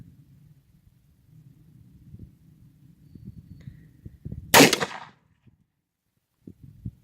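A Remington New Model Army revolver firing a Long Colt cartridge at an outdoor range gives a single sharp, loud report that cuts through low background rumble and fades quickly to quiet.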